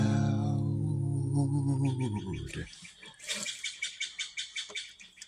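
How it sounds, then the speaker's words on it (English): Short, bright bird chirps repeat in a quick, steady series after a sustained musical tone fades out. "Notice how the birds always applaud when my song's over."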